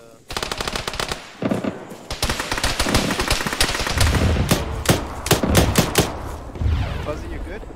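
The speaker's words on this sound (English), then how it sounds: "There's something shooting at Bravo" Gunfire in the video game Arma 3, rapid automatic bursts with separate single shots scattered among them, loud and sustained through most of the clip, with voices talking under it.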